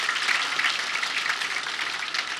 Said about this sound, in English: encourage the Honorable Minister of Defense with another round of applause